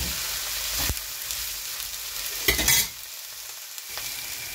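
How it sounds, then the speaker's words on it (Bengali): Elenga greens fry in a pan with salt and green chili, giving a steady sizzle broken by a few scraping stirs of a spatula against the pan, close and fairly loud. "সব একসাথে ভালো করে একটু ভেজে নেব।"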